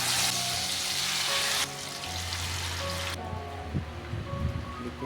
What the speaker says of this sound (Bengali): চিকেনগুলো এখন চলে যাচ্ছে গরম গরম কড়াইতে